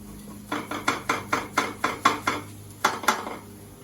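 A spatula scrapes and taps against a frying pan while loosening an omelette, giving a run of about ten quick, evenly spaced metallic scrapes, a brief pause, then two more, close and clear.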